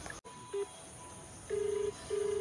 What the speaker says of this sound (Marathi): त्याला आता लावले करणला फोन लावले.